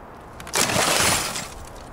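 A Korsar 12 firecracker blows apart a television indoors, a single sudden loud shattering burst that decays over about a second into a hissing, crackling spray of debris.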